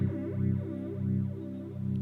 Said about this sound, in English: on the flange, we have a normal flange would be this.